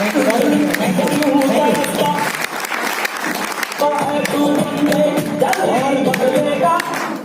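A seminar audience applauds loudly and steadily, with dense clapping throughout and a brief dip partway before it swells again, close and continuous.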